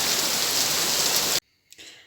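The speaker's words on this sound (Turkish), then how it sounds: "Bir anda yağmur bastırdı burada." Heavy rain falling in a sudden downpour, a dense steady hiss that fills the first second and a half before cutting off abruptly into near silence with a faint knock.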